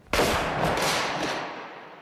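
A Civil War breech-loading rifled cannon fires: one sharp, loud blast that rolls into a long, fading boom and rumble, heard alone with no voices.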